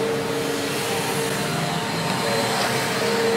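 Vacuum cleaner at the SEMA 2017 car show, a steady whooshing motor drone held at close range for the whole stretch with no voices.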